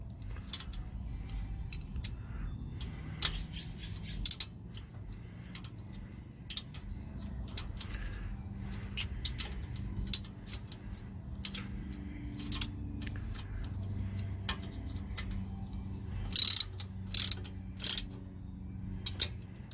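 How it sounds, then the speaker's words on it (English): A ratchet on a 13 mm socket tightens the front brake caliper bolts on a 2009-2014 Ford F150, giving sparse, short metallic clicks that come in brief bursts over a low background hum, with no talk. "Our ratchet."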